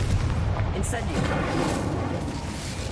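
A fire spell cast in the video game Hogwarts Legacy fills a tomb with a continuous, loud, rumbling roar of flame that persists evenly without pause.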